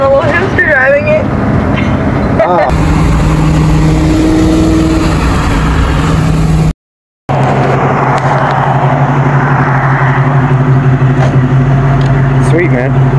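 A 5.0 Ford Mustang GT Foxbody drives past on a street, its engine rumbling and swelling as it goes by, heard under people talking nearby, with a brief dropout midway.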